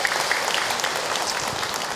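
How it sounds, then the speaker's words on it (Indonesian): Audience applause at an Islamic religious talk, a steady wash of many hands clapping continuously for two seconds, moderately loud with no voices over it. "Tepuk tangan buat kita semua."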